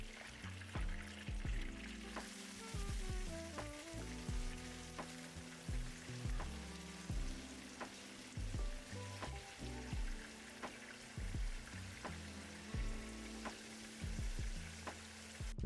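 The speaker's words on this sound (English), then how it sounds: "I'm going to add in some of our green onions and dill. We're gonna fry this for just about 10 seconds" Green onions and dill frying in hot oil for Hanoi turmeric fish (Cha Ca La Vong), giving a steady, soft sizzle with scattered clicks and scrapes from stirring.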